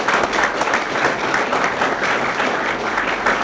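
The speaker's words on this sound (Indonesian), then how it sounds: "tepuk tangan untuk Muni Kadir ya" Studio audience applauding during an Indonesian comedy talk show, a steady dense patter of clapping that holds at an even loudness for the whole stretch without a break.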